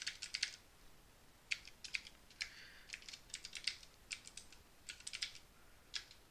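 Keys tapped on a computer keyboard while entering a password into a Firebase email-and-password login app, in several quick bursts of clicky strokes separated by short pauses, close and fairly quiet.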